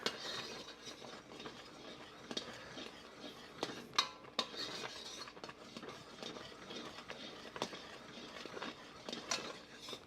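Peach bourbon jam stirred in a pot with a long spoon, quiet scraping and soft clinks of the spoon against the pan coming in irregular strokes, faint and close with no talking.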